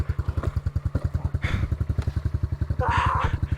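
A dirt bike engine revs in steady rapid pulses as the rider tries to power up a hill, loud and close, with throttle surges partway through and voices talking over it.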